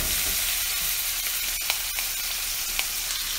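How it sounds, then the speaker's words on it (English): Bone-in venison neck roast searing in smoking-hot oil in a pan, a steady loud sizzle with a few sharp pops and crackles, no voices. "we're going to go ahead and move that neck roast over to the pan to get a great sear on it"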